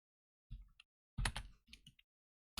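A few short bursts of computer keyboard typing, close and fairly quiet, with brief gaps between clusters of keystrokes and no voices.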